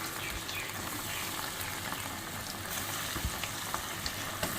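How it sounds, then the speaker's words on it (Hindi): Bread rolls frying in oil over low heat give a soft, even bubbling sizzle with small pops here and there, fairly quiet and close, with no one talking. "अब इनको हल्की आंच पे हम फ्राई कर लेंगे।"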